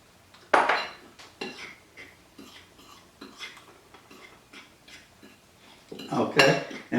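Garlic powder and black pepper being mixed in a bowl, an irregular series of close scraping and clinking strokes of a utensil against the bowl, louder near the start and end.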